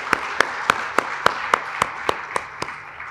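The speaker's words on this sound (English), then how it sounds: "Please, a round of applause for our speakers as well." About ten crisp, evenly spaced hand claps ring out close and alone in a slow steady rhythm, a round of applause for speakers at a Canada and Ethiopia women in trade panel.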